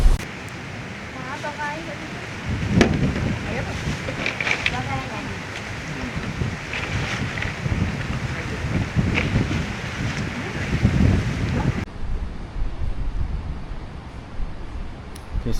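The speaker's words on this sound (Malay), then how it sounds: "Angin kuat. Memang sangat kuat." Strong wind blows at Tanjung Balau beach, buffeting the microphone with heavy rumbling gusts and rustling. People talk over it.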